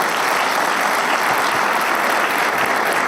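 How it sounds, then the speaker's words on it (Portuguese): A church congregation applauds in a continuous, dense wash of clapping that holds a steady loudness from start to finish, with no voices rising above it. "uma salva de palmas para eles."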